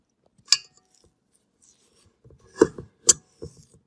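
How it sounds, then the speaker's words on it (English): A fork scrapes and taps against a bowl while mixing flour and salt, a few scattered, brief clinks and scrapes separated by quiet gaps, close and fairly soft. "then I'm going to mix it together with the fork"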